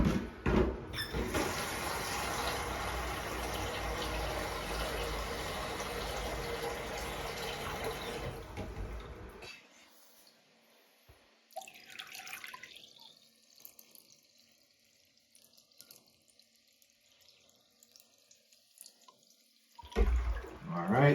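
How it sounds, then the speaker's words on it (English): A Black Beauty toilet's high tank refills with water, starting as a loud, steady rush that lasts about nine seconds. It then drops to a quieter trickle and hiss before swelling again at the end. "Refill my water here."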